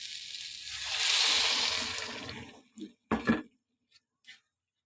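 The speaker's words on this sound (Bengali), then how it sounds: "এবার আমি এখানে গরম জল দিয়ে দেব" Hot water pours onto fried peas and potatoes in a pan for ghugni, a loud, steady hissing splash lasting a couple of seconds, then tapering into a few short clatters and faint knocks.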